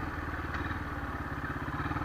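A Bristol Classic 250 motorcycle engine runs steadily at close range, a low rhythmic thumping pulse with a faint mechanical clatter on top, unbroken and without voices for about two seconds.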